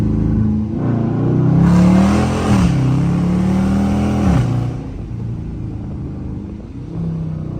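A Dodge Charger RT accelerates hard in first gear, its engine swelling into a loud, close rumbling roar that climbs in pitch, then eases back to a lower steady drone.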